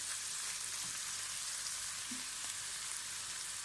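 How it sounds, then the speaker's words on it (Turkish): Onions fry in a pan with a steady, even sizzle that holds unchanged throughout, close and fairly quiet, with no voices. "Bir 10 dəqiqədə belə qovuracağıq. Soğanlarımız da pişsin."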